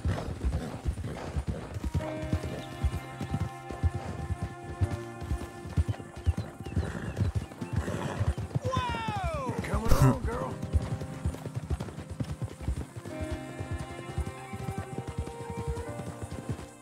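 Horse neighing and clip-clopping hooves from Red Dead Redemption 2, a rising whinny standing out near the middle over steady hoofbeats and game sounds, with someone talking throughout.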